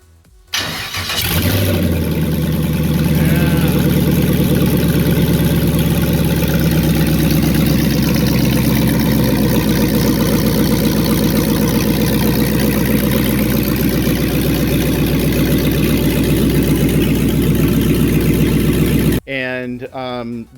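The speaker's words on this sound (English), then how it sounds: "just recently got the engine running" A car engine starts up and settles into a loud, steady running rumble close by, then cuts off abruptly near the end.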